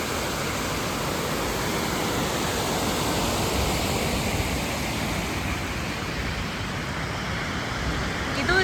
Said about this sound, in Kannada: ಇದು ಜಸ್ಟು ಮೇಲಿಂದ ನೀರು ಬೀಳುತ್ತೆ.